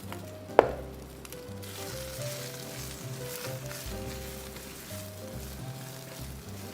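Pechay greens pan-fry in a hot pan with a loud, continuous sizzle and crackle. One sharp metallic clank sounds near the start, then the frying carries on steadily.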